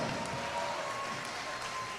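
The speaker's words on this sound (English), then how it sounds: "big round of applause for these two fighters" A crowd at an MMA fight show applauds two fighters after a bout, a brief, fairly faint wash of clapping and cheering heard at some distance, lasting about two seconds.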